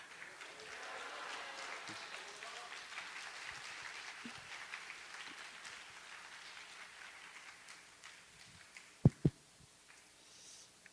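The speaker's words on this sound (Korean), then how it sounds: "우리 최태영 목사님이 오늘 말씀 전해주실 텐데, 여러분 할렐루야 하면서 큰 박수로 맞이해주시기 바랍니다" A church congregation at an evangelistic revival meeting claps to welcome a guest pastor, a moderate, even wash of applause that holds steady, with a couple of sharp thumps near the end.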